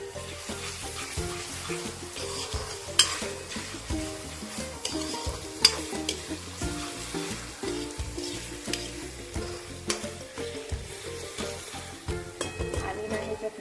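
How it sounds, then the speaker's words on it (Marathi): Sliced onion fries in a pan with ginger-garlic paste as it is stirred, giving a steady close sizzle with frequent scraping stirs and spatula taps and no talk. "कांदा परतवून झालेला आहे आणि ह्याच्यात मी ना जी अद्रक लसूणची पेस्ट राहिलेली ना ती ह्याच्यात टाकून घेणार आहे"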